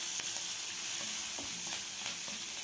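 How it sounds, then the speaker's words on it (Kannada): Curry leaves and green chillies fry lightly in hot oil for a temple-style curd rice tempering. Close, soft and continuous, it gives a steady sizzling hiss scattered with small pops and crackles. "ಈಗ ನಾವು ಕರಿಬೇವು ಸೇರಿಸೋಣ. ಹಸಿಮೆಣಸಿನಕಾಯಿ ಹಾಕೋಣ. ಎರಡೂ ಸಹ ಲೈಟಾಗಿ ಫ್ರೈ ಮಾಡಬೇಕು."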